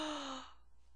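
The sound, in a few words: person imitating a gasp to get a dog's attention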